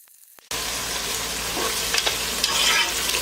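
Whole spices (cinnamon, bay leaf, green and black cardamom, black peppercorns) hit hot oil for chicken biryani, bursting into a loud, steady sizzle after a short quiet start, with a few brief stirring scrapes and no talking.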